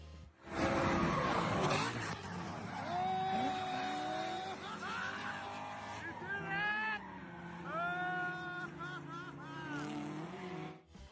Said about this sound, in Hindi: उसने शुरुआती लाइन पर अपनी कार को ड्रिफ्ट कराते हुए फुल कंट्रोल में 360 डिग्री मोड़ लिया